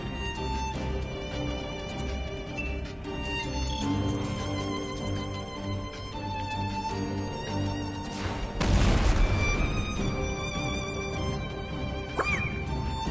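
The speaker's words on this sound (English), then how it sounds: "that's what you call a bit of explosion in his face" A burst of explosion from the video game Rise of Noctis erupts loudly amid a busy, music-laden game soundtrack, with a dense noisy crash lasting about a second before the score carries on.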